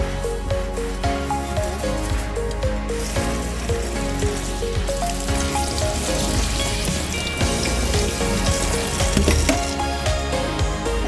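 Meat sears in a pan for Cantonese-style dried whelk soup, giving a loud, steady sizzle with crackling spatter that runs throughout beneath faint tonal background sound.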